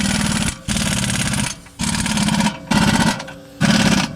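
Nuts being run onto a Dana 60 front axle with a power tool, four loud buzzing bursts of roughly a second each separated by brief pauses, close up with no talk.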